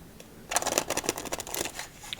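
A stiff, still-curved deck of playing cards being shuffled, giving a close, crisp run of riffling flutters and snaps that lasts about a second and a half, quiet and alone with no talk.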